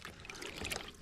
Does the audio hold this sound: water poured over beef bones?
yes